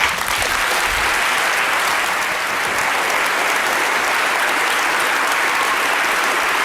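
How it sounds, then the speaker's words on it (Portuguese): Sustained, loud applause from a large audience follows the close of a lecture, an even wash of many hands clapping that holds without a break from start to finish. "E aí vem os aplausos."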